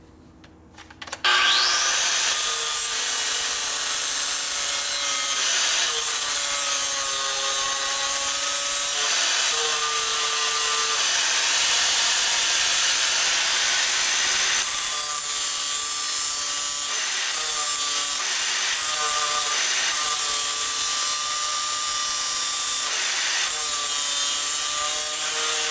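An angle grinder cuts steadily through a steel kicker ratchet part from a 1970s Harley-Davidson Sportster, a continuous loud whine with shifting pitch as the disc bites, running close up for over twenty seconds.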